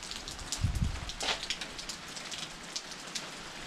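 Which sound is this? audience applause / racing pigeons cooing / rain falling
rain falling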